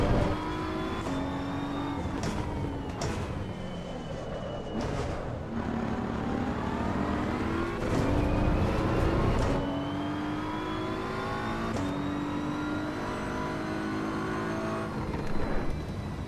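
A GT3 race car engine in Assetto Corsa EVO drones continuously and loudly, its pitch climbing and dropping through repeated gear shifts as the car drives around a track.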